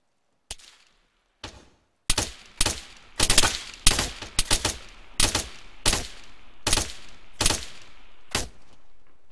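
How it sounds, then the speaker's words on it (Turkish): Gunfire in the video game Arma 3 during a shootout inside a bank: two isolated shots, then a run of sharp, loud reports in an uneven rhythm, close and with no talk. "bacağından vurdum adamı"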